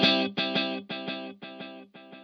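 Guitar played through an Emma Electronic Navigator delay pedal with the second delay set to 2/3, a chord echoing in five evenly spaced, gradually fading repeats, each with a stuttering doubled attack.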